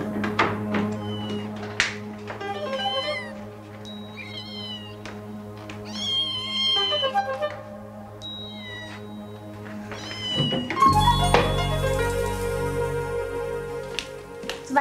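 A small kitten meows again and again in short high cries with pauses between them, close and clear, and a louder burst of crying and a thump come near the end.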